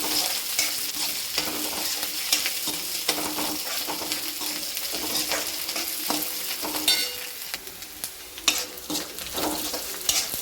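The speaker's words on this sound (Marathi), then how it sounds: "आपला कांदा परतून झालेला आहे मिरची पण आपली परतून झालेली आहे" Chopped onion and green chilies sautéing in a pan for spicy tikhat bhat, a continuous close sizzle with frequent spatula scrapes and stirring clinks, no voices.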